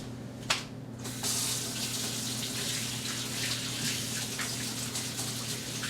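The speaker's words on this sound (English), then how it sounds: "wash your hands." A kitchen tap runs steadily for handwashing, a continuous close hiss of water falling into a sink after a brief knock, with no talk over it.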